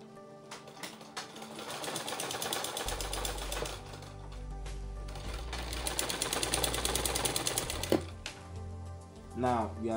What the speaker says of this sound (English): We are going to sew it like this now.